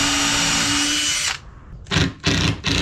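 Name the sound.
driving screws into 2x2 lumber cleat with a drill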